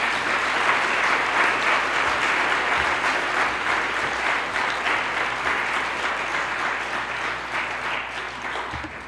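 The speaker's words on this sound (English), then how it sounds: "can we just all give them a clap of thanks as well as congratulations?" An audience at a 2016 camp gathering claps in a thank-you round, a dense, steady wash of many hands that stays loud and close throughout and tapers slightly toward the end.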